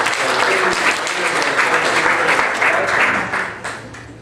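An audience at a Tea Party Senate candidate forum bursts into applause, a dense, loud wash of clapping that holds for several seconds before tapering off.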